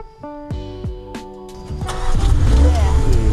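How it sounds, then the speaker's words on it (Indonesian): A 2000 cc turbocharged Mini Cooper SUV, rated 215 HP, starts up; after a couple of seconds of voices and tonal sounds, the engine catches and settles into a loud, close, steady rumble. "ada satu yang paling kamu suka adalah menyalakan mobil ini"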